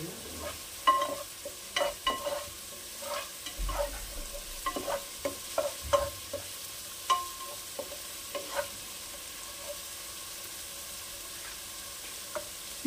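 Mixed fried rice stir-fried restaurant style with chopped green chillies, a soft sizzle under repeated scraping and clattering strokes of a spatula against the pan, irregular and close, with no voices.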